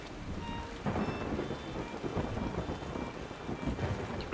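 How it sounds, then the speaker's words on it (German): Thunderstorm in the video game Yonder: steady rain pattering on surfaces with low rumbling thunder rolling underneath, continuous and fairly soft, with no voices. "Es blitzt. Ich hasse Gewitter."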